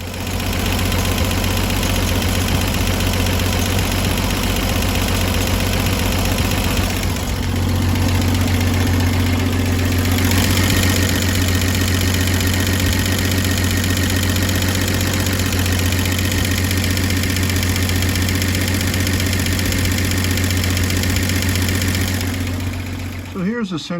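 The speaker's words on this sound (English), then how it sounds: "I'll have to start this up and make sure I don't have any leaks." A Dodge Power Wagon engine runs at a steady idle with a low, continuous rumble and faint knocking vibration, loud and close throughout, with brief louder revving in the middle and a voice occasionally speaking over it.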